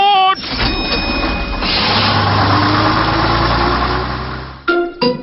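Cartoon bus engine from Peppa Pig runs with a steady low mechanical drone across the middle, framed by short bursts of music or voice at the start and end.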